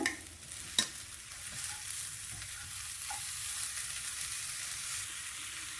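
Broccoli with chicken masala and garam masala stirred in a hot pan, a steady sizzle with scraping spoon strokes and a sharp clink near the start, no voices.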